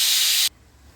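A pressure cooker holding goat trotter soup releases steam in a loud, sharp hiss for about half a second, then cuts off abruptly, leaving quiet kitchen background.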